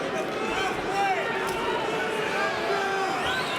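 Dense arena crowd noise rises around a Bellator mixed martial arts bout between Will Brooks and Marcin Held, a steady roar of voices with scattered jeers during slow grappling, loud and continuous throughout.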